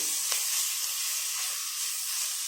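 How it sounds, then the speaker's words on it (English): Ginger garlic paste sizzles in hot ghee, a steady bright hiss that continues without pause, with a faint stirring tap near the start. "I'll add ginger garlic paste, and this ginger garlic paste and this has to be sauteed well."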